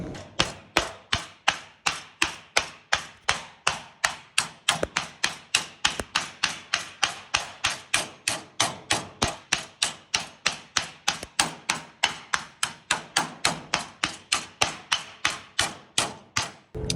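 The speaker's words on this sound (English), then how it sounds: "So I'm gonna do the 2 more little bends and then flip it over and bend it the other way." Coated sheet metal being bent by hand for a Cushman Truckster dash panel: a long, steady run of sharp, close knocks and taps at about three per second, loud and even, with no talk.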